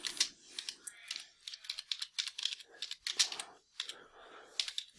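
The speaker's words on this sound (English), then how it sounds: "Here I just simply type in," Typing on a computer keyboard, a quick irregular run of crisp key clicks heard up close with short pauses between bursts, with no talking over it.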